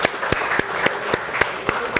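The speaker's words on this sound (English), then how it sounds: "Please give a round of applause to Robinson Construction." Sparse applause from the audience at a museum learning center speaker series presentation, with a few distinct, evenly spaced claps over a steady background hum.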